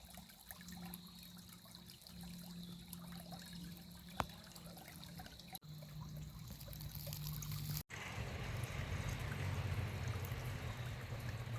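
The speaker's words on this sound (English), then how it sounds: "sit by the creek and just listen to the water bubbling down it" Creek water bubbling and trickling steadily outdoors at a nature setting near orchards, a continuous close wash of flowing water that grows slightly fuller in the second half, with a few brief knocks.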